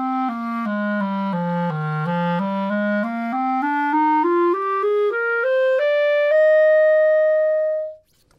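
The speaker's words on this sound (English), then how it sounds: "Like many other woodwind instruments, the clarinet is a cylindrical tube with a series of holes drilled into it" A clarinet plays a smooth run of notes, dipping down and then climbing steadily upward to finish on a held high note. The tone is clear and close, solo, with no talking.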